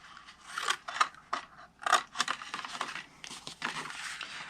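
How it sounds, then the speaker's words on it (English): Scissors cutting scored cardstock paper for a treat box, a series of close, crisp snips and short slicing strokes with faint paper rustle between them. "We're going to cut it straight to the first score line, and then we're going to wedge each side"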